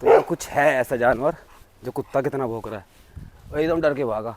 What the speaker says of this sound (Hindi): कुत्ता कितना भौंक रहा है।